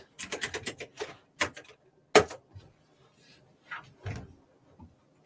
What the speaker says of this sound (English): I love your clicky keyboard.